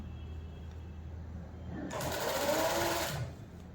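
A domestic sewing machine stitches a blouse in one steady, whirring run of about a second and a half, close and fairly quiet, with a soft hum before and after.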